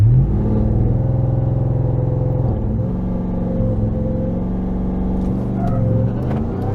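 A RAM TRX engine idling and rumbling at a night drag race, a loud steady low drone with slight shifts in pitch, heard up close without speech.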